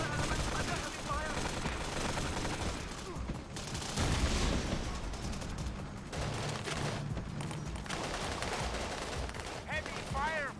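Heavy gunfire in the Battlefield 2: Modern Combat video game, with dense, continuous bursts of rifle and machine-gun fire over about ten seconds and a soldier's voice calling out over the din.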